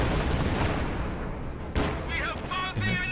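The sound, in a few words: artillery firing in video game Company of Heroes 2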